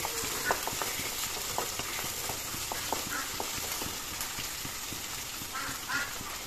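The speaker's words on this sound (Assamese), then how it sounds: "ইয়াত এনেকৈ ভাজি ল'লোঁ" Ginger-garlic paste fries in a pan with a continuous close sizzle, broken by a steady series of spatula scrapes and taps against the metal.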